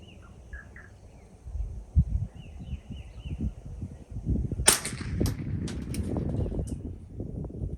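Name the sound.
rifle shot at splatter target through Vector Paragon scope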